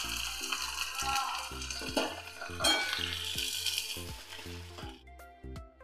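Crushed onion and ginger-garlic paste hit hot oil in a pan, giving a busy close sizzle with stirring clatter and repeated low thumps that cut off near the end, no voices.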